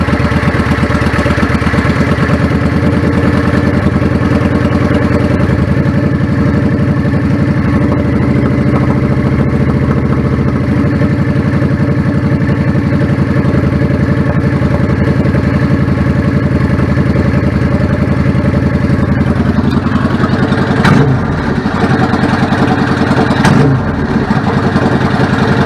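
A 1999 Yamaha V-Star 650 Classic motorcycle with a clogged pilot jet idles steadily and loudly up close for the whole stretch, a low uneven throb with a few sharp disturbances near the end and no talking.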